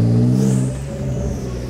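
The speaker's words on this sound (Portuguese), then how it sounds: "o que, que você achou do barulho do carro?" A Porsche car engine while driving, a loud low drone that eases off slightly partway through, heard up close from inside with no talking.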